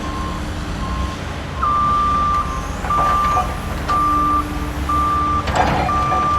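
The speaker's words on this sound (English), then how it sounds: "E for excavator." An excavator's reversing alarm sounds repeated steady beeps over a rumbling diesel engine, with machinery noise and clanks close by.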